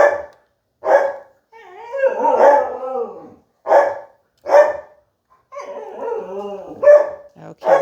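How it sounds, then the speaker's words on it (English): A dog nearby barking in short sharp bursts, with drawn-out whines and howl-like yelps in between. "He was barking."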